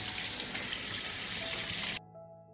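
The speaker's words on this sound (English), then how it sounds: "I will wash the peaches first, because I only use clean and healthy fruit for canning." Peaches are rinsed under a running tap, water gushing and splashing loudly and steadily for about two seconds before cutting off abruptly into quiet.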